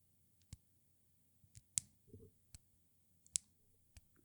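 A plastic Lego fox piece from a Minecraft kit, turned over in the hands, gives sharp, close, quiet clicks, around eight scattered snaps over a few seconds against near silence.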